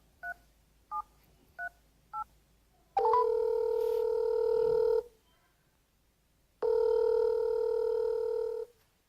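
A phone is dialed to call someone: four short keypad beeps in quick succession, then two long steady ringback tones separated by a pause of silence, clear and close.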